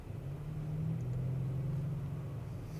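An Audi RS7 with a 4-litre V8 gives a low, steady rumbling drone from inside the car, even and moderately quiet for the whole short stretch.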